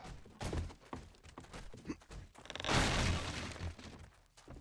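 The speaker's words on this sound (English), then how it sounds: "they're already upstairs because they're caving through the floor" Zombies smash and cave through a floor in the survival game 7 Days to Die (Ravenhearst mod), with repeated heavy thunks and cracking impacts building to a loud, sustained crashing burst of breaking debris.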